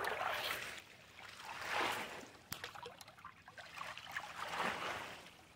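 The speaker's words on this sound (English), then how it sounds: "I got to be going inside this intake bay and raking all the leaves out" Leaves are raked out of a garden pond's intake bay: quiet, rhythmic watery swishes and sloshes recur every couple of seconds, with faint trickling in between.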